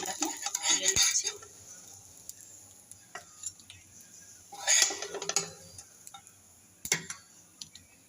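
Fried fish roe is lifted out of a frying pan, with a few scattered metallic scrapes and clinks of a spatula against the pan and faint background quiet between them.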